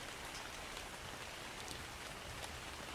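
Steady, dense rain falling in the survival video game ARK: Survival Evolved, a continuous hiss of drops on surfaces at even loudness throughout, with no talking.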